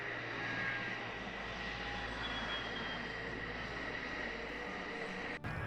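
A steady, continuous roar of an A-10 Warthog aircraft engine with a droning hum, constant in loudness throughout and cut off abruptly near the end.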